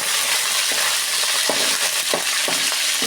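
Curry leaves fry in hot oil for gongura pickle, a loud continuous sizzle with a few soft stirring scrapes at irregular intervals, close up with no talk.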